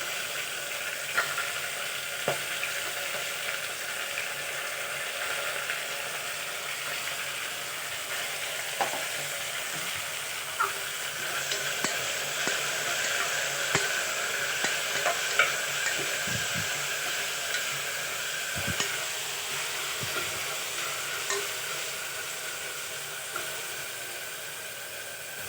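Onion, green chilli and tomato frying for pulao, a continuous soft hiss of oil in the pan with scattered light scrapes and taps from stirring, fairly quiet and steady throughout.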